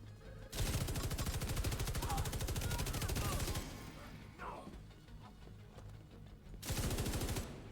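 Light machine gun fire in the video game The Division 2 rattles out in long, loud sustained bursts, stopping briefly for quieter game noise before another burst starts near the end.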